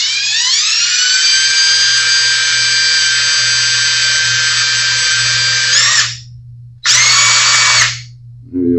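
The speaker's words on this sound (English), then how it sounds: "All we got to do is drill out the center." A power drill bores out the center of a part during a Washburn BT 2 guitar wiring repair, a loud steady whine held for about six seconds, cutting off, then a second shorter burst before stopping.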